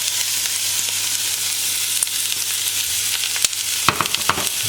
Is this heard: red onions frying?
yes